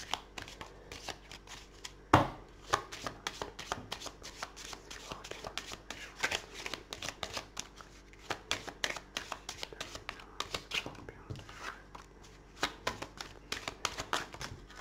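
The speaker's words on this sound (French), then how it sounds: "Donc je mélange les cartes." Tarot cards being shuffled by hand, a long run of quick, crisp riffling flicks and slaps, close and fairly loud, with one sharp knock early on and no talk.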